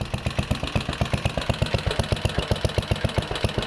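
A 69-year-old Briggs & Stratton 23A-FB single-cylinder engine idles close by, its exhaust beating in a fast, even pulse with a slight rough edge, loud and steady throughout with no talking.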